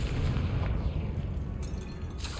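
A Confringo explosive spell goes off in Hogwarts Legacy, a dense rumbling blast that fills the whole moment with low booming energy, with a brighter crackle flaring near the end.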